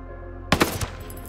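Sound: gunshots from a light machine gun in video game Ghost Recon Breakpoint

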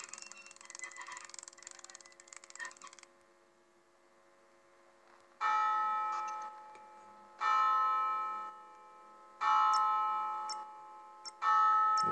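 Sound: bell ringing in Asylum Night Shift 2 video game

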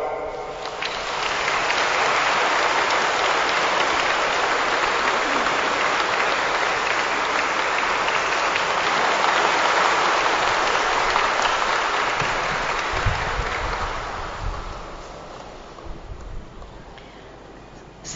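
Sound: congregation applause welcoming new priest

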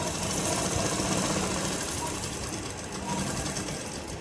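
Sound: sewing machine stitching a pocket onto palazzo pants

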